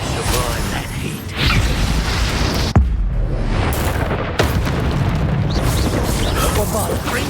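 Blasting spells and explosions in the Hogwarts Legacy video game make a dense, loud rumble with creaking and booming bursts, broken by two sharp impacts, all under constant game noise.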